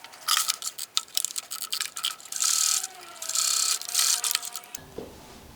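Domestic sewing machine stitching along a fabric edge to close a side and finish it off, a close mechanical whirring in several short runs and longer bursts, ending with a soft handling thump.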